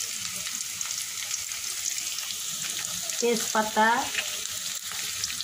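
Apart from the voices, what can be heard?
whole spices sizzling and being stirred in hot oil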